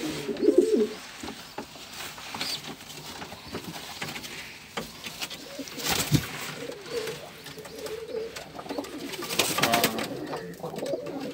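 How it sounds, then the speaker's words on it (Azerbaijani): Pigeons coo softly and repeatedly at close range in a loft among a keeper's birds, including a fancy red-headed, red-tailed pigeon, with low murmuring calls over faint background noise. "Drakon kimi bir göğərçindir."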